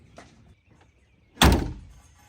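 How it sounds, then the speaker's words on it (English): A single firm thunk as the door of a Gator utility vehicle shuts, close and solid, preceded by faint handling clicks and followed by a short decaying rattle. "Close the door firmly so that it seats properly on the seal."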